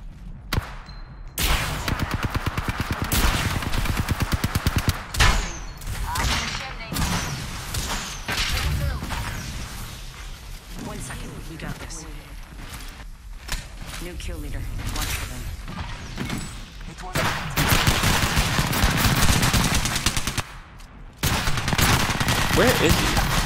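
Rapid bursts of gunfire in the battle-royale video game Apex Legends, loud and nearly continuous with dense automatic volleys and crashes, a person talking over it throughout.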